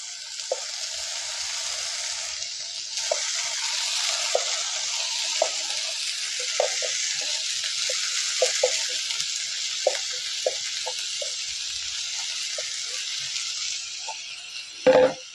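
Ingredients sauté in a pan for cauliflower chutney, a steady close hiss of frying broken by scattered light clicks of stirring and a sharper knock just before the end.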